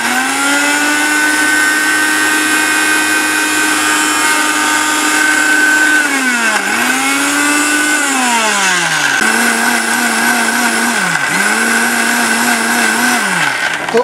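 A Philips blender grinds ginger, garlic and onion into a paste with a loud, high motor whine that runs steadily, dipping in pitch several times as the load shifts.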